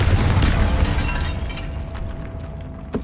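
A Confringo fire-spell blast from Hogwarts Legacy bursts loudly at the start, its deep boom rolling and fading over a few seconds before a small pop near the end.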